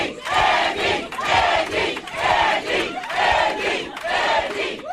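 A large crowd at a New Jersey congressman-elect's victory event cheers and shouts in repeated loud surging waves, with rhythmic bursts of chanting and applause filling the whole stretch.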